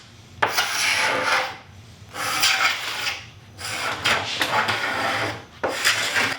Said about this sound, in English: used a scraper to remove any squeeze out glue that had dried on the